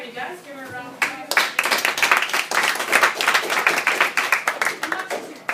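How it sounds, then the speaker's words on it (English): A health class claps for a guest speaker, dense overlapping handclaps starting after a second of talk and continuing steadily and fairly loud to the end. "Give her a round of applause."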